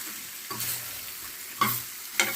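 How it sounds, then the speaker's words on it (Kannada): Masala for sambar fries in oil in a pan, a steady sizzle broken by three sharp stirring scrapes, close and alone with no talking. "ಅದನ್ನು ಸಹ ಒಂದು ಸ್ವಲ್ಪ ಹೊತ್ತು ಎಣ್ಣೆಯಲ್ಲಿ ಫ್ರೈ ಮಾಡ್ಕೊಳ್ಳಿ."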